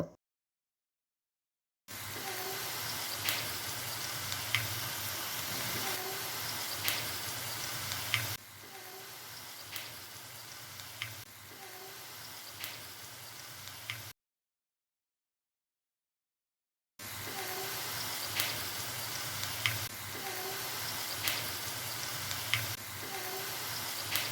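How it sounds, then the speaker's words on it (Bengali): Potatoes coated in flour sizzle and fry steadily in hot oil, a continuous crackling hiss with occasional ticks and stirring sounds, broken by two short silent gaps. "তারপর আলুটার মধ্যে আমি পরিমাণ মতো ময়দা দিয়ে গরম তেলে ভেজে নিব।"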